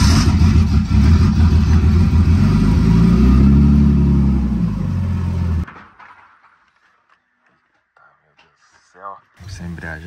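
A home-built car's engine turns over and runs loud and steady for about five seconds, then cuts out abruptly, leaving near silence with brief faint sounds and a voice near the end.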